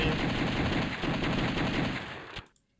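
Rapid continuous gunfire from a light gun in the arcade shooter The House of the Dead 1, a dense loud burst lasting over two seconds before cutting off abruptly.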